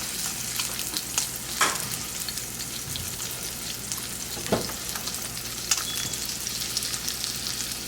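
Salmon searing in oil in a pan on a gas stove, a constant close crackling sizzle with occasional louder pops and a few brief scrapes, no voices.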